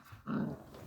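A dog gives a short, low growl, faint and distant, heard alone.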